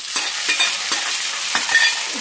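Hot tempering with curry leaves is tipped into a pot of cooked dal off the stove, setting off a steady crackling sizzle with repeated sharp spitting bursts, close and with no voices.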